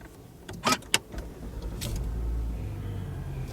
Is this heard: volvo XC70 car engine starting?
yes